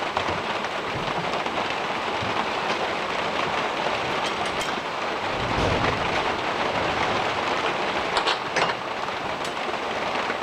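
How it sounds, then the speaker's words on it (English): Steady rain pours during a stretch of days-long downpour that has left everything flooded, a dense continuous hiss filling the whole clip with a few brief sharper ticks and no voices. "it's been raining for days and days, so everything's flooded"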